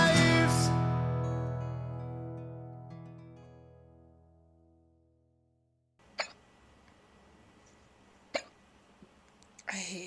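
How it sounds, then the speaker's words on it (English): A sustained tone fades out over several seconds, followed after a pause by a few sharp, isolated hiccups spaced irregularly against a quiet background. "I hate hiccups."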